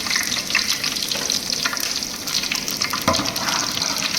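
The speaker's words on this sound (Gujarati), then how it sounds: "આખું જીરું લીલો લીમડો કચપટા લવિંગનો વઘાર મારશું" Cumin seeds, curry leaves and cloves crackle in hot groundnut oil for a tempering, a dense, steady close-up sizzle with scattered pops and a brief sharper burst near the end, no voices.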